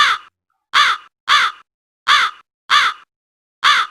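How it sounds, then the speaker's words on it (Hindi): Six loud, harsh crow caws ring out one after another at a steady, deliberate pace, each call separated by a short silence. "आसमान में काले काले कौवे मंडराने लगे।"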